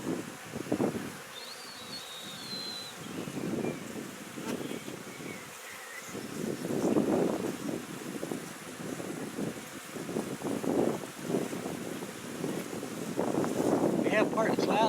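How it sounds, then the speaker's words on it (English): A breeze blows outdoors at a farm beside a beehive, wind buffeting the microphone in gusts that rise and fall, with faint insect buzzing and a person speaking underneath. "Nice breeze is blowing."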